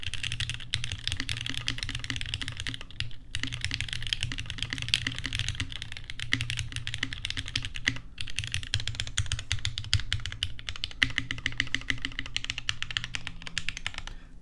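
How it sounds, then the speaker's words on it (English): Continuous typing on an E7v2 75% mechanical keyboard, a dense stream of close keystroke clacks with brief pauses, heard alone with no talking. "I just want to give you an idea of what the E7v2 sounds like."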